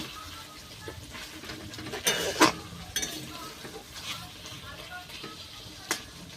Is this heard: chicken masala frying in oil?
yes